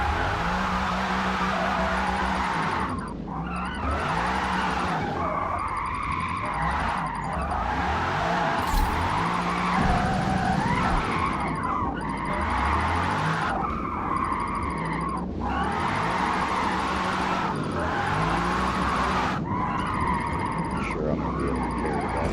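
Tyres screeching and spinning as a car drifts around the Nürburgring in a racing video game, a loud continuous squeal over a revving engine with brief dips between slides.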